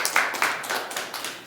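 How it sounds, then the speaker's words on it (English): An audience at a live body language show claps for a participant, a short burst of scattered handclaps repeating in uneven rhythm, moderately loud with no speech over it. "big round of applause for Candace."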